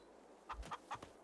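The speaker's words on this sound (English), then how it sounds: "chickens." A few short, soft clucks from farm chickens, three or four quick calls close together over a quiet background.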